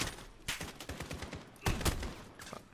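Video game gunfire crackles in scattered bursts, several sharp shots and a louder heavy volley near the middle, fairly close and quite loud.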